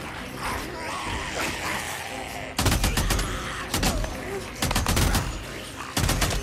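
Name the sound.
gunfire from a big gun in the video game Days Gone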